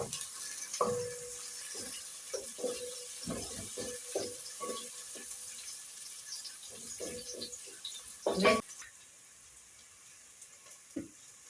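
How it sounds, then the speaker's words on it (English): Onions fry in a pan and are stirred, heard as a faint sizzle under intermittent scraping and knocking of a spoon in irregular bursts, with one louder clatter near the end. "Let's wait for the onions. You have to keep on stirring them."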